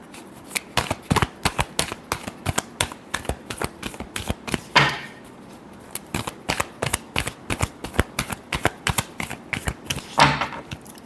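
Tarot cards being shuffled by hand in a final shuffle, crisp rapid riffling clicks in quick bursts, close and alone, with two louder flourishes.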